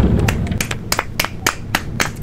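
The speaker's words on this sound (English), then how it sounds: "Clap it up." Audience clapping at a live show, a rhythmic patter of hand claps with a few sharper individual claps standing out over a murmuring crowd.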